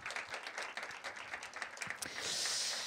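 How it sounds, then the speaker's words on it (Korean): A church audience at a college service breaks into a short burst of warm applause that fades into a soft hiss after a couple of seconds. "우리 다시 한번 큰 박수로 한번 격려해 주시겠습니까?"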